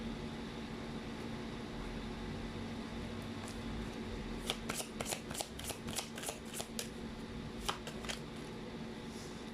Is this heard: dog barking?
no